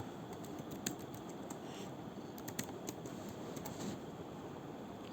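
Quiet computer keyboard typing under steady background hiss, with faint rapid key taps coming in irregular bursts, some clustered and a few slightly sharper clicks.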